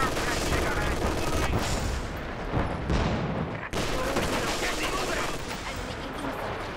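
Rapid bursts of Vickers machine gun fire from the Company of Heroes 2 strategy game rattle continuously, layered with other battlefield gunfire, with a brief sharp drop midway before the shooting resumes.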